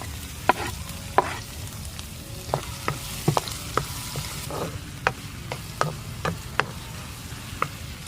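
Onions sizzle steadily in a frying pan, with sharp scattered clicks and taps as they are stirred, close up and without any talk.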